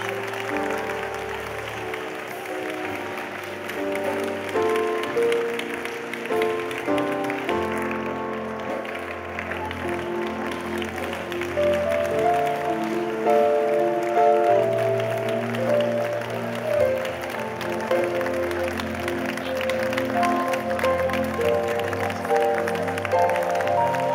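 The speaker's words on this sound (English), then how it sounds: "Clap your hands and pray." A church congregation claps hands steadily through a prayer session, a sustained, fairly even wash of applause running under music and faint voices.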